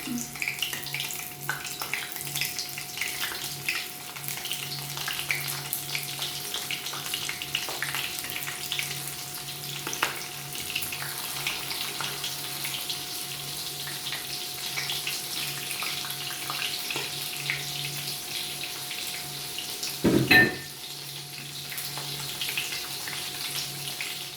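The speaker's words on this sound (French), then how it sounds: "Alors, je passe à la friture de mes crevettes." Shrimp sizzle in hot oil with a steady, crackling hiss that runs on for a long stretch, broken once by a short clatter near the end.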